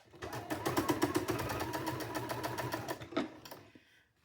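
A sewing machine sews fabric cow pieces in a close, steady run of rapid needle strokes that slows and stops after about three and a half seconds.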